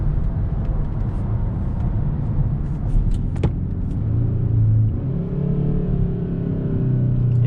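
A steady engine drone and road rumble from inside a moving 2021 Hyundai Sonata N Line in sport mode, swelling slightly as it accelerates partway through; no one speaks.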